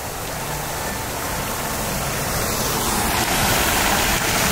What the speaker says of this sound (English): You see the water fountain, Pa?